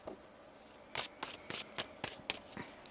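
Tarot cards being shuffled in a quick run of about eight crisp riffling bursts, close and quiet, with no voice.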